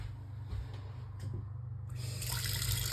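A Delta touch kitchen faucet runs water into a sink, a soft steady stream with light splashing that swells louder toward the end, heard close over a low background hum.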